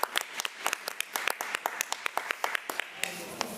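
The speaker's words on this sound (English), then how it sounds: "Let's give her a round of applause as she comes up" Scattered applause rises at a regular school board meeting, with distinct, fairly crisp claps from a modest group tapering off toward the end.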